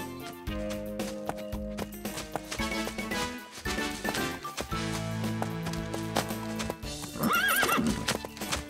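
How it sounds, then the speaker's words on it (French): Hooves clip-clop rhythmically as a horse moves along, then a loud whinny rises near the end, with music playing underneath. "Ton cheval est bien scellé, Mimi?"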